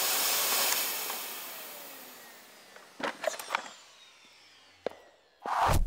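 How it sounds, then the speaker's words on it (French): A housekeeper's vacuum cleaner, rated at 82 decibels, gives off a broad, airy roar that fades away, followed by a few scattered clunks and a short burst of noise at the close. "Son aspirateur fait 82 décibels."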